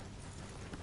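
Horses' hooves clip-clop on the ground in Red Dead Redemption 2, a steady muffled rhythm under a broad wash of ambient game noise.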